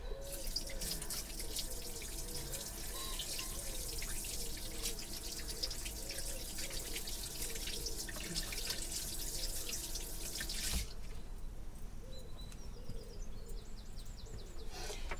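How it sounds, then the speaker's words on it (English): Tap water running steadily into a sink while hands are washed, a continuous close splashing stream that cuts off abruptly toward the end, leaving quieter drips and room noise. "Let me wash my hands."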